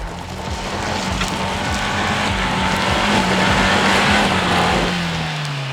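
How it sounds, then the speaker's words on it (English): Suzuki Jimny straining up a steep off-road hill in rear-wheel drive with stability control off, a steady loud engine drone rising in pitch with wheelspin and gravel scrabbling, no voices. "So that's how far the Jimny made it up with rear-wheel drive."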